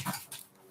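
A dog gives a short whimpering cry, brief and faint, with a small whine after it and no talking.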